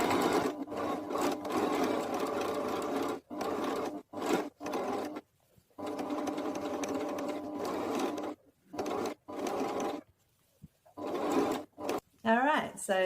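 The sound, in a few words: sewing machine sewing red ribbon trim on clown costume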